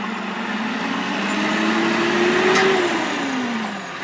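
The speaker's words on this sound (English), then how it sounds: "Going through a big tractor" A big tractor rolls over Scopwick level crossing in Lincolnshire, its engine drone swelling as it nears and then fading as it moves off, loud and alone.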